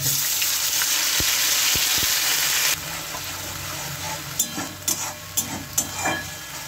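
Onion and green chili paste hits hot oil with a loud, dense sizzle that settles after a few seconds into a softer frying hiss, broken by scraping stir strokes and clinks of a utensil against the pan.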